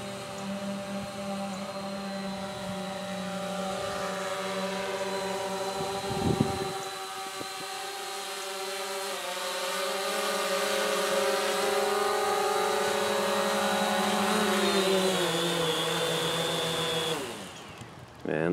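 A XIRO Xplorer quadcopter drone hovers and flies back home, its rotors giving a steady high-pitched whine with shifting tones that swell and then cut off near the end.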